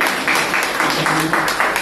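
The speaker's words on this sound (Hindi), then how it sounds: "जोरदार तालियां बजती है" Loud, dense applause from a crowd fills the whole stretch, steady and continuous with a slight pulsing rhythm.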